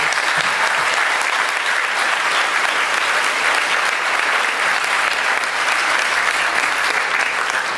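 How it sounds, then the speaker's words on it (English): A graduation audience at a 2018 high school ceremony gives parents and families a round of applause: dense, steady clapping from a large crowd that holds at an even level throughout, with no voices above it. "let's give our parents, our families, a well-deserved round of applause"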